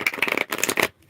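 Tarot cards are shuffled in two quick riffling bursts, crisp and close, ending abruptly in about a second.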